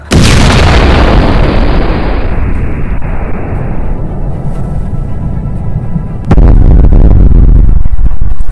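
A thunderous lightning-strike explosion hits a church, a loud broadband boom that roars and slowly decays over several seconds before a second heavy rumbling burst slams in near the end.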